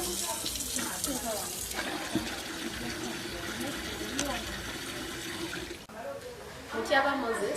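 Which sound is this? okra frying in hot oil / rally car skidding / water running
water running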